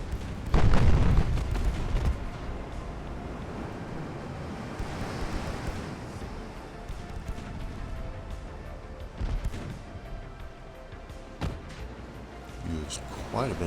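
A battleship's main battery firing in the naval video game Ultimate Admiral: Dreadnoughts: one heavy, deep boom near the start, followed by a long steady wash of sea and wind with faint distant thuds.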